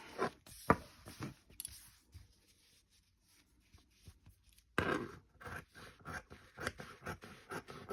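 Scissors snip through a strip of satin fabric folded into layers for a fascinator flower, giving a run of close, crisp cuts and scrapes with a quiet pause midway before the snipping resumes.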